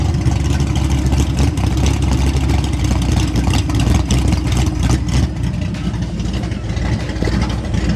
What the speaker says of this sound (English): I don't know if you guys can hear that exhaust